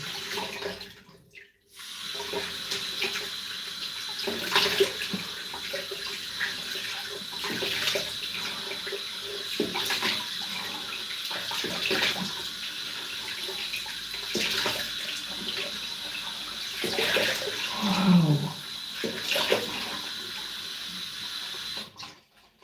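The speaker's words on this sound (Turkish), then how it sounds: "Şimdi soğuk suyla durulayıp tıraş sonrasına geçin." Water runs steadily from a tap into a sink for a cold-water rinse after a shave, a close, continuous splashing flow with a few brief louder gushes and no talking.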